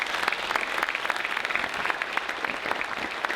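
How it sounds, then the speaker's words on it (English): A banquet audience at an annual meeting applauds its managers: steady, crowded clapping from many hands at a moderate level, sustained evenly throughout with no voices over it. "I would give you a round of applause"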